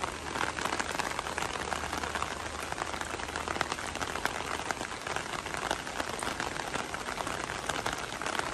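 Steady outdoor rain patters densely and evenly on surfaces nearby, a constant hiss of drops with no pauses and almost no voices.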